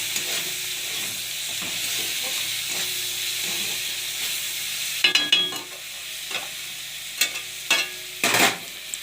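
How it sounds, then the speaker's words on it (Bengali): Onion frying in a pan hisses steadily while a spoon stirs it, with a burst of louder scraping and clattering strokes in the second half. No voices. "পেঁয়াজটা একটু ভাজা ভাজা মতন হয়ে আসবে"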